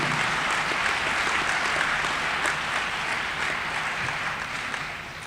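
Audience applause at a citywide town hall meeting on refuse and fireworks issues, a steady, dense wash of many hands clapping that holds level for several seconds and tapers slightly near the end, with no talk over it.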